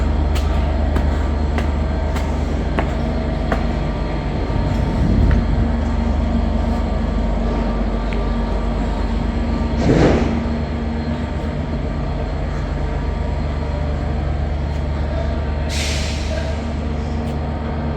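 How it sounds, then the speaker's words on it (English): Steady low rumble of a train idling at a British station platform, with faint clanks, a brief louder thump midway, and a short hiss of air near the end. "The train we saw pull in, I think, is the train for Manchester."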